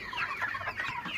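Chickens cluck steadily on a chicken farm, a dense overlapping chorus of several birds close by with no one talking.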